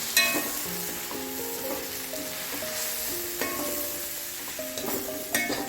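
Sambar powder being stirred into a hot pan while making white radish sambar, a steady background sizzle with repeated scraping strokes of a spoon and soft clinks against the pan, close, no one talking.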